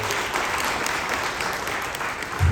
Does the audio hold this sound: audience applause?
yes